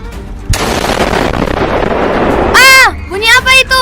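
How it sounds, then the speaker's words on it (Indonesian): A loud burst of gunfire as Dutch troops shoot at a mosque in a school drama about Acehnese resistance, a sharp report followed by a sustained noisy crackle, then shouting voices rise over the end. "pihak Belanda telah menembak masjid"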